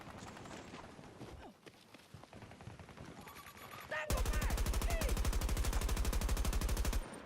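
Gunfire in the video game Battlefield 2042: scattered shots and game sounds give way to a loud, sustained rapid-fire automatic burst lasting about three seconds, with voices faintly mixed in early on.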